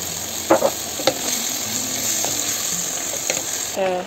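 Vegetables with bell pepper, green beans and carrots cooking in a pan for Cameroonian poulet DG, giving a steady soft sizzle with a few brief clinks and stirring knocks, fairly close and without speech.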